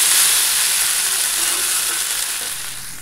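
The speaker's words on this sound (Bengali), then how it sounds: "এখন একটু জিরার গুঁড়ো দিয়ে ভেজে একটু জল দিয়ে ঢাকা দিয়ে দেবো" Vegetable curry fries with cumin powder in a pan, making a loud, close, continuous hissing sizzle that fades slightly toward the end, with no talking.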